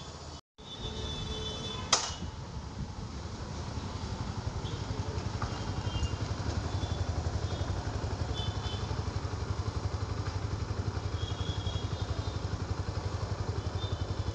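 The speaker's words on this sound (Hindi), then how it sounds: "सलीम भाई एक चेकअप करेंगे, मतलब एक एक्स्ट्रा राउंड मार के आएंगे कि बाइक में कोई दिक्कत तो नहीं है" A motorcycle out on a test ride after its first service, its engine holding a steady, close, continuous drone for the whole stretch, with a brief knock near the start and no voices.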